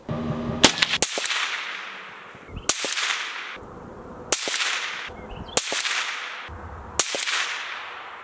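Five suppressed rifle shots from a Dead Air Nomad-suppressed rifle firing OTM ammunition, sharp cracks spaced about a second or more apart, each followed by a short decaying tail, loud and close with no talking.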